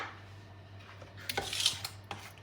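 A spoon clinks and scrapes against a bowl as yogurt goes into Kerala-style beetroot pachadi, several light metallic taps close up over a quiet background with no speech.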